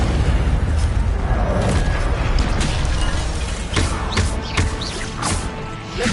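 Incendio fire spell cast in the Hogwarts Legacy video game, a loud booming blast with crackling bursts over a dense, continuous bed of game sound, no talk.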